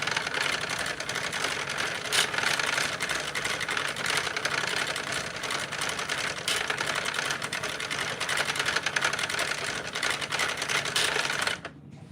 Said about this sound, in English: I like to hand crank these first few rows before I start using my